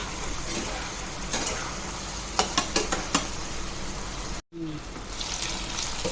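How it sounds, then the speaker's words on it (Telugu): Chicken fry being stirred in a pan while the water cooks off, a steady sizzle under scattered scraping strokes and a few sharp clicks of a spoon against the pan, briefly cut by a moment of silence. "మధ్యలో మధ్యలో కలుపుతూ ఉండాలండి లేకపోతే అడగంటుంది ఈ వాటర్ మొత్తం డ్రై అవ్వాలి"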